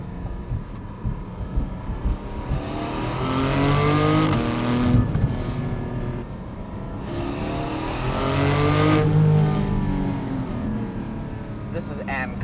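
A Porsche 718 GT4 with PDK gearbox climbs through its revs on the road, its engine note rising twice toward a shift over rushing road noise while a voice talks faintly.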